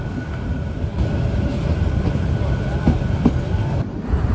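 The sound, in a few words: Sagorika Express train entering Gunabati station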